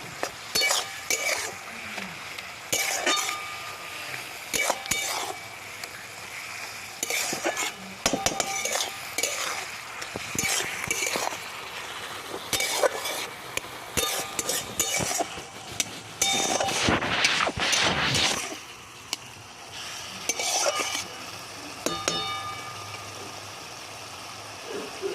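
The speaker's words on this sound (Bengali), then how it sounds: "ভালো করে নেড়ে চেড়ে নেবো" Red amaranth leaves frying in a pan are stirred again and again, with repeated scraping and clinking of a spatula against metal over a soft, steady sizzle, close by and without talk.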